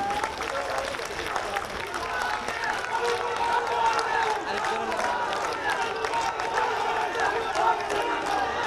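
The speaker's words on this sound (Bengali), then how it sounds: "আপনারা সবাই তাকে করতালি দিয়ে বরণ করে নেন।" Audience applause at the launch of a youth political wing, welcoming a newly named nominee: dense, steady clapping from a crowd throughout, fairly loud and continuous with a busy, roomy wash of hands.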